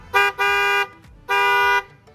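Newly installed aftermarket Hella car horn honked in three loud, close blasts: a short toot, a longer one, a pause, then another long blast, with no talking.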